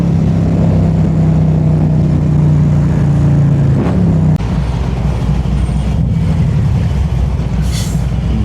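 A motorcycle, a Harley Street Glide, rides through traffic with a loud continuous engine drone and heavy wind rush, the engine note dropping around midway as the bike eases off.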